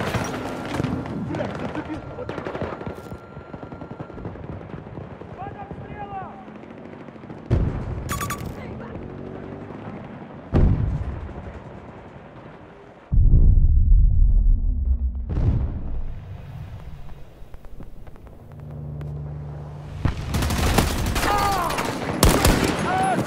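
Battlefield 2042 combat with heavy bursts of gunfire and booming explosions, loud and dense, dropping briefly before another heavy barrage, with voices talking over the fighting.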